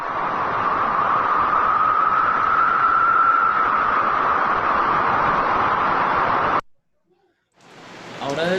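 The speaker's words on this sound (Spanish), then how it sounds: "Ahora vamos a escuchar el sonido del viento." Wind rushing with a steady hiss and a faint whistling tone that rises and falls, loud and continuous for about six and a half seconds, then cut off into silence before a different faint sound begins.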